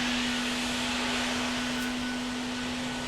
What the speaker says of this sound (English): now I'm just going to go and vacuum and finish up